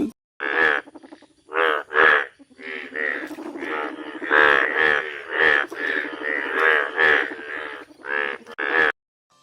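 A frog croaks in a run of repeated, loud, close bursts with short gaps between them. No one talks over the sound.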